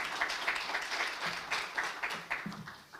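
An audience applauding at a summit conference, dense continuous clapping from many people with some individual claps standing out, loud and sustained for the whole stretch before thinning slightly at the end.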